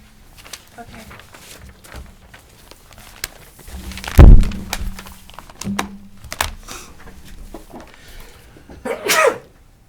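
A single loud sneeze bursts out in a quiet room during a municipal conservation commission meeting, with faint shuffling and keyboard tapping around it and a brief later rustle.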